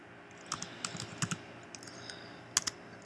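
Quick, light taps on a computer keyboard, close by, as a short word is entered at an uneven pace with small bursts of clicks and brief gaps.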